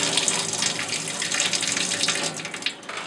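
Running water rinsing color film in a developing tank during C-41 processing, a steady close splashing gush with small bubbling fluctuations and no talk.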